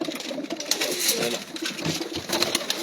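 A Sialkoti pigeon coos softly against a busy, hissy background, with low murmurs running through the short stretch.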